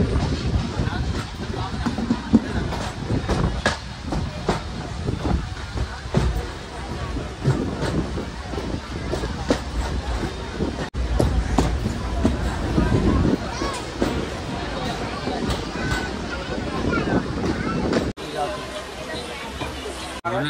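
Diva–Chiplun MEMU Ganpati special train standing at Khed station in the Konkan during the Ganpati festival, heard as a steady low rumble of train and platform noise with a busy hubbub of crowd voices throughout.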